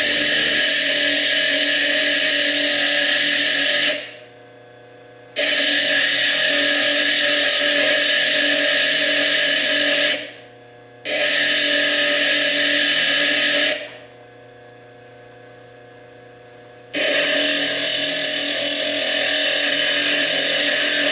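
A handheld Foredom rotary tool with a quarter-inch bit grinds fire agate in loud, sustained bursts, a steady high whine broken by three brief pauses before starting again.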